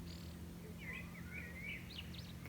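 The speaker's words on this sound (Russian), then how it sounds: "Какие звуки вообще тут птицы издают, ребята?" Several birds chirp and trill outdoors, short bright calls rising and falling over a steady low hum, moderately distant and fairly faint.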